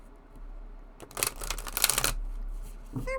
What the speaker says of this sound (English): they're pretty good at shuffling